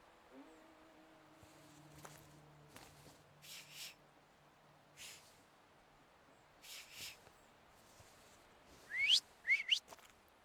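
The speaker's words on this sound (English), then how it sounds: "So, have you mastered whistling?" Whistling in The Thaumaturge video game comes as a few faint breathy bursts, then two short, rising whistles near the end, quiet against a low hum.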